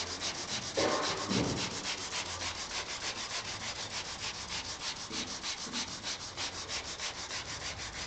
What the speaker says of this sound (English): just give it a little rub with sandpaper